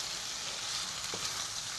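Pork and fiddlehead fern (dhekia) frying together in a pan, a faint, steady sizzle with a few small pops and stirring scrapes, no one speaking.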